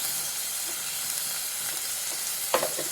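Cauliflower frying in a pan gives a soft, steady sizzle, joined by faint stirring scrapes and a couple of sharper clinks of the spoon against the pan near the end.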